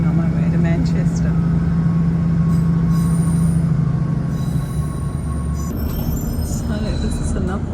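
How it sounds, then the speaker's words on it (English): Train running on rails on a journey to Manchester, a steady loud rumble with a low hum and faint high wheel squeal, heard from inside the carriage throughout. "now I'm back here on the train on my way to Manchester"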